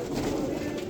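Pigeons coo softly at a large pigeon-keeping setup, a low continuous murmur of many birds close by, faint overall.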